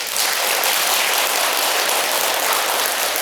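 Korean Buddhist temple congregation at a dharma sermon bursts into dense, sustained clapping, a loud, even roar of many hands that fills the space without pause.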